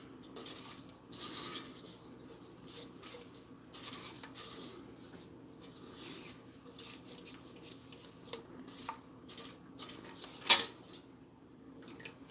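Food coloring stirred into a candy-apple candy mixture, soft scraping and swishing strokes of a utensil in a pot, fairly quiet and steady with a few sharper clicks, no talking.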